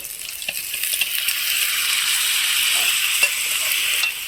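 Boiled broad beans tipped into a hot pan and stirred, a brief clatter and then a loud, steady hiss of frying with light scraping, close up and with no voices.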